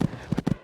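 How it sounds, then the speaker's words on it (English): Horse hooves canter in the Equestriad 2001 horse game, three quick paired clops in rhythm, close and clear, with no talking. "Cantering along this part now."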